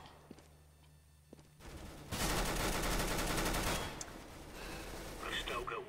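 Gunfire in the shooter CS:GO: after a quiet start with a couple of faint clicks, a loud burst of rapid automatic fire rises and holds for about two seconds, then fades into softer game noise.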